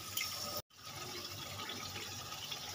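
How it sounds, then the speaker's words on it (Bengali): Whisked sour yogurt goes into a hot curry pan with turmeric and Kashmiri chili powder for a chicken and pointed gourd dish, giving a steady wet hiss that briefly cuts out, then resumes close by. "দিয়ে দেবো টক দই।"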